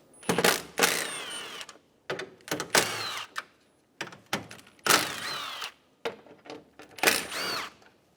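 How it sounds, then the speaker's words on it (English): Hand tools work 10mm bolts out of the front lower grille on a 2012-2020 Chevrolet Sonic, heard as a close series of short metallic clicks and ratcheting bursts with brief pauses between. "Using a 10mm socket, remove the 4 10mm bolts."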